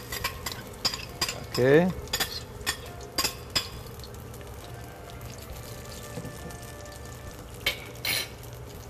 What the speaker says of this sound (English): now you can see it's cooking and it's sizzling